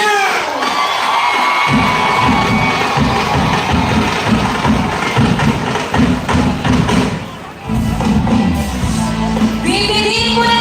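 A large crowd at a Bulacan political rally cheers and shouts loudly and continuously, with a brief dip before the roar swells again.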